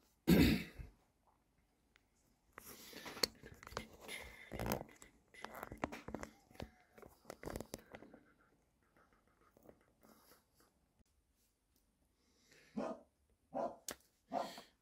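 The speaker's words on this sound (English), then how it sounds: "as soon as I hit record, the dog starts barking" A dog barks in bursts, fairly quiet and somewhat distant, with scattered barks early and a couple more near the end amid low background noise.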